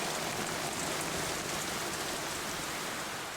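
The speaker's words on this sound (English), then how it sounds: "It's not a good start with the rain." Steady rain falls in an anime episode, a dense, even hiss of drops that holds at an unbroken level throughout, with no voices over it.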